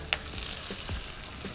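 Water spinach (kangkung) stirred in a frying pan with a little water, a soft steady sizzle under a few light scrapes and taps of the utensil, faint and close, with no voices.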